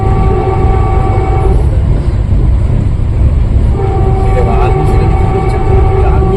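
A crowded train at Jammu Tawi station during boarding, with a steady low rumble and hum of the train and platform bustle, steady tonal whines, and background voices throughout.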